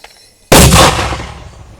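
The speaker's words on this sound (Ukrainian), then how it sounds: "On a pu voir comment les soldats utilisaient leurs mortiers" A mortar fired from a trench near Bakhmut gives a single sudden, loud, close blast that rings out and decays over about a second after a quiet lead-in.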